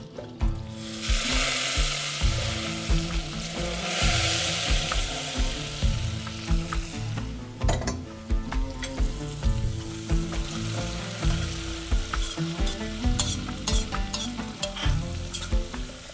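Garlic and pepper fry in hot oil with spices for a crispy condiment, a loud, dense, continuous sizzle close up with scraping stirs mixed in. No voices.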